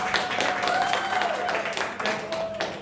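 Audience applause at an improv show, a dense wash of clapping from a room full of people that carries on steadily, with a voice speaking over it.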